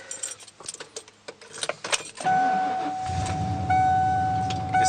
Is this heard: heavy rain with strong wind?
no